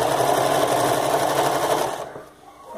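A sewing machine stitches a patchwork ruffled skirt in a steady, loud, fast mechanical whir that runs continuously, then stops abruptly and leaves quiet room sound.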